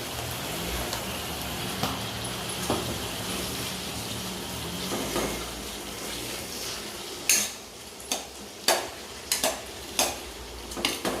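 Tomatoes sizzle in a pan with a soft crackling hiss, followed by several sharp clinks of a utensil stirring against the pan.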